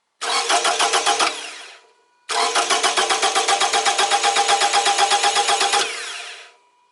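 An engine with low compression cranks in two bursts with a starter, a short one then a longer one, each with a fast, even chugging pulse that never catches and runs, heard close and loud.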